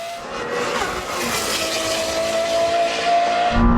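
Lamborghini Temerario and Revuelto drag racing in performance mode, a loud sustained engine roar with rising whine and tire noise, close and continuous throughout.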